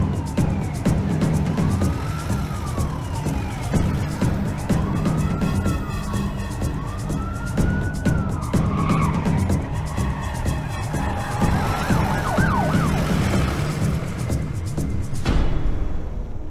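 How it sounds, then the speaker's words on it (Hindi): A wailing emergency siren sweeps up and down repeatedly over steady traffic noise, then shifts to a rapid yelp before cutting off abruptly. "गगन जिस एम्बुलेंस में है वो निमहंस की जगह दूसरी साइड से जा रही है।"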